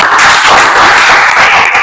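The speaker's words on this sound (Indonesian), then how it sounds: "Tepuk tangan." A classroom full of students gives a short burst of dense, close applause, brisk hand claps sustained for under two seconds.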